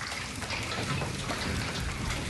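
Hail from a severe storm drums on a tin barn roof in the distance, making a dense, continuous patter that stays fairly loud and steady throughout.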